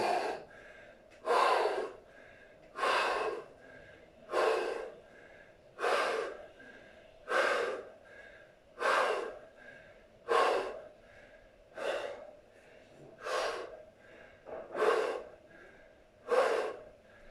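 Heavy breathing during a set of squats at a home workout: about a dozen loud, forceful breaths in a steady rhythm roughly every one and a half seconds, close to the microphone, with no speech between them.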